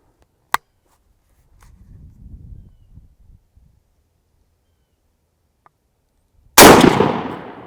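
A 12 gauge shotgun firing a Federal TSS turkey load at 40 yards bursts out as one loud, close blast with a ringing decay, after a sharp click and some quiet low rumbling.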